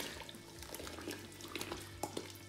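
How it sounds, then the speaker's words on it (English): Granulated brewing sugar (dextrose) is gently poured into banana wine must, making a soft, continuous granular hiss and patter with a few small ticks, close and steady, with no voices. "Now we're going to add our sugars and we're going to gently pour them in so as not to splash them."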